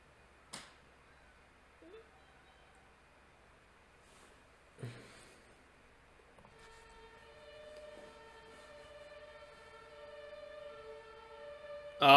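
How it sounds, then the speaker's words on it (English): An ambulance siren passes outside, rising into a sustained wailing tone in the second half after a few isolated knocks, heard at moderate distance with no talk over it. "Oh, there's the ambulance."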